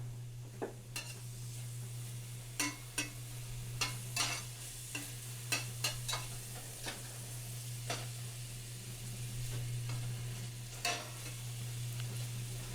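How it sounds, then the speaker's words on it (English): Garlic tossed into a hot pan while cooking beef and tomatoes, giving a faint steady sizzle under scattered clicks and scrapes of stirring and utensils, with no talk. "It should sizzle a bit."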